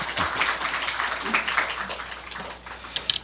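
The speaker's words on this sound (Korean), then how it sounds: "우리 박수로 우리 선교사님 맞이하겠습니다." A church congregation applauds to welcome a missionary to the pulpit, scattered and moderate clapping that rises and eases over a few seconds, slightly distant in the sanctuary.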